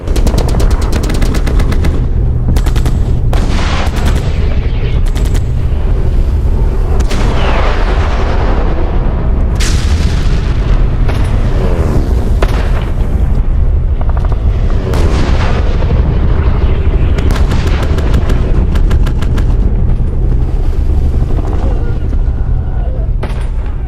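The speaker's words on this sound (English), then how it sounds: "the Japanese unleashed everything from machine guns and mortars to heavy artillery" Heavy wartime beach battle fire from Japanese positions: loud, dense machine-gun bursts mixed with mortar blasts and booming heavy artillery, constant and overwhelming throughout with no let-up.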